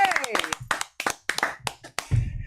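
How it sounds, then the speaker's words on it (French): An audience applauds a performer in a small live music setting, with a scatter of sharp claps mixed with voices talking over them. "pendant que tu t'installes, on t'applaudit à nouveau"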